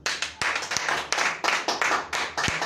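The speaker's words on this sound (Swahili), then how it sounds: "Let us appreciate Chairman kwa makofi mazuri." A church congregation claps hands in praise, a dense, rhythmic wash of many palms in repeated surges with brief dips between, loud and close throughout.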